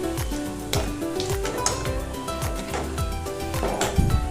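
Steady oily sizzling of spice powder frying in oil in a pan, with occasional stirring scrapes and clinks throughout, close and moderately loud.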